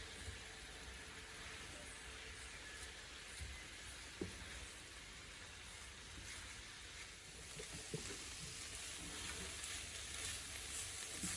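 Onions cook in a pan with a faint, steady sizzle and scattered soft crackles that stay quiet and even throughout, with no one speaking.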